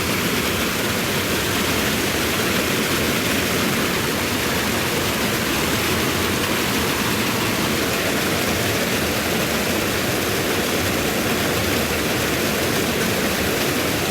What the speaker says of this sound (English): we got water flowing